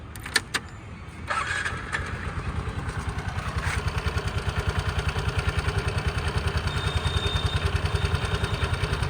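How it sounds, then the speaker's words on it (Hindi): A Vespa SXL 150 scooter engine with 30,000 km on it starts with a few clicks, then settles into a steady, close idle with an even rapid putter. "एक नॉर्मल साउंड भी सुनाता हूँ आपको इसकी"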